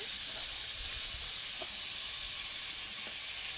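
Pointed gourd (potol) pieces fry in a pan over a fire-fed stove, giving off a constant, fairly loud sizzling hiss with a few faint stirring taps and no voices.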